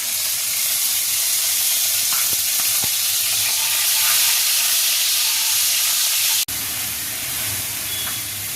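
Ginger paste sizzles loudly in hot oil tempered with garam masala (cinnamon and cardamom) for a Bengali-style chhanar kalia. The steady frying hiss runs throughout, with a brief dip near the end.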